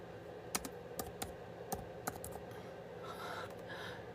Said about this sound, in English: Just typing in moon schedule.